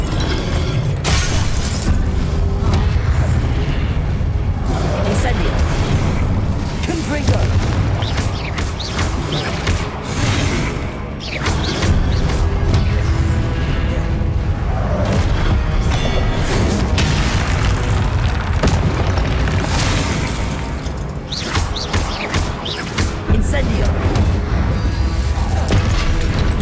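Continuous loud crashing and booming of Incendio fire spells and shattering statues in Hogwarts Legacy on PS5 Pro, dense bursts of blasts and debris throughout with no talk.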